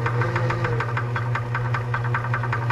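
A Vevor mini lathe runs while taking a first cut, a steady mechanical hum with a regular rapid ticking rhythm, close and fairly loud, with no voices.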